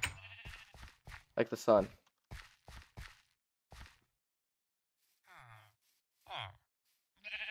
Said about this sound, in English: The sheep are fascinating.